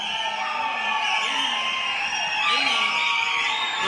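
Crowd at a political rally in Sivagiri, Tamil Nadu, cheering, whooping and shouting continuously, loud and close, with voices rising and falling over a dense roar.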